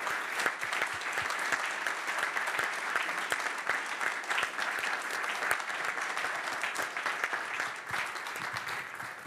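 Sustained applause from an audience at an economics award ceremony honoring the finalists, a dense steady wash of many hands clapping that holds at an even level throughout.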